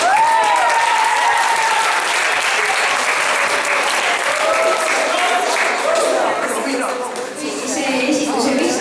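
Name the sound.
audience applause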